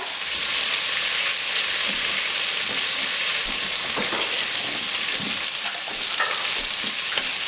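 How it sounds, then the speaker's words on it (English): Vegetables sizzle and crackle steadily while frying in butter in a hot pan, with occasional scraping and stirring clicks throughout, close and fairly loud. "now I'm going to fry my vegetable"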